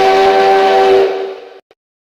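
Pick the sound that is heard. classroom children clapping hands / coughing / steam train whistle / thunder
steam train whistle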